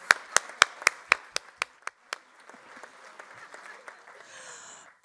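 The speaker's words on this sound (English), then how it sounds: "Give them another round of applause" Audience applause for guests from Central Brooklyn at a Teachers College event starts as a handful of loud, sharp, evenly spaced claps close by, then thins into softer, scattered clapping that fades near the end.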